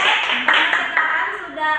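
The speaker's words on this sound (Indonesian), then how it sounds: "Oke, berikan tepuk yang meriah." Classroom applause for student groups after they answer questions, a brief burst of clapping from many hands with some voices mixed in.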